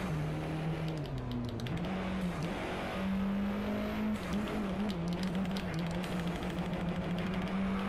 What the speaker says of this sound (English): This is Alfa Romeo that I'm driving right now.